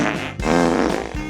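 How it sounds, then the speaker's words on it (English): A loud, close fart, one low buzzing blast that wavers and sputters through its length before trailing off, with no talking over it. "I just farted."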